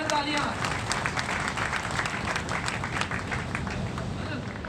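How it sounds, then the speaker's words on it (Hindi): An audience at a farmers' agricultural testing camp in Bilha, Chhattisgarh applauds, with dense, steady clapping that holds for several seconds over a low murmur of voices. "जोरदार तालियां।"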